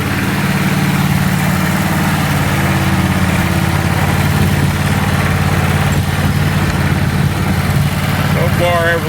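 The engine of a Simplicity SST 16 riding mower runs at a loud, steady idle close by, a continuous low rumble with a brief rattling sweep near the end.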